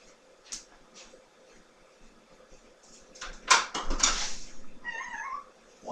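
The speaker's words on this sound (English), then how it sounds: "One of my cats is trying to get in." A house cat at a door trying to get in: soft scratching and bumping against the door, then a burst of louder rattling and knocking, with a short meow-like cry near the end.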